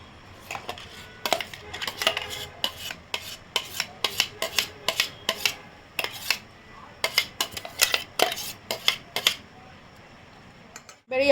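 Mango pulp being mixed into cake batter of flour in a bowl, heard as a steady run of sharp utensil clinks and scrapes against the bowl, close and fairly loud, ending in a louder knock.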